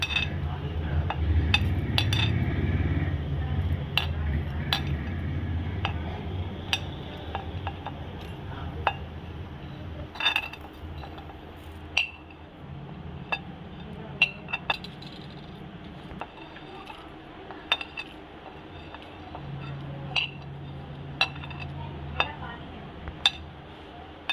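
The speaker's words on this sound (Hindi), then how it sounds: "ये मिक्सचर का जार है, इसके अंदर हम अब ये चीज़ें डालते जाएंगे एक एक करके" Whole spices for nihari masala drop one by one into a mixer jar, giving sparse sharp clinks and ticks over a low background hum, with quiet talk early on.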